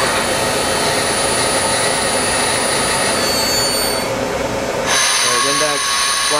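A Citizen M20 Type 3 CNC Swiss lathe runs a short program, giving a steady loud machine whine with high tonal tones that glide and shift, then changing pitch near the end as the spindles and tooling move.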